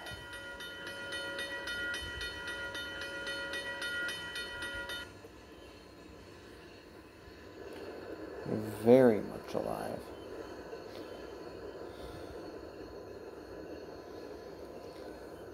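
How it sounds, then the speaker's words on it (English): A freight train with a caboose rolls past on a railway: a sustained tonal blare for the first few seconds, then a low rumble that swells into a brief louder burst, with someone speaking briefly nearby. "Oh, caboose on that train too."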